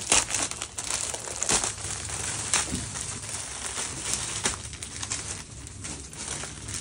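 Pure organza suit fabric with a floral brush print crinkles and rustles as it is handled close up, a continuous crisp crumpling over several seconds.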